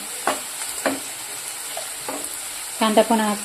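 Onion and tomato frying in a pan for dal khichdi: a soft sizzle under several distinct spatula scrapes, ending in a louder burst of stirring with a squeaky, rubbing tone. No speech.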